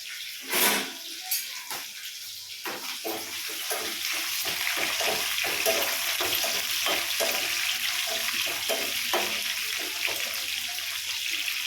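Tempering spices sizzle in hot oil in a pan for a Telugu curry, starting with a few sharp crackles and settling into a steady, close, loud frying hiss with scattered pops and stirring clatter, no voices.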